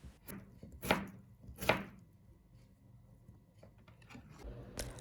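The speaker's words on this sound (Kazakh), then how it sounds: "Және де қызанақты да 4 бұрышты етіп турап аламыз." A knife cuts tomatoes into square pieces, giving a few sharp chops on a board close by and several softer taps, with no talk.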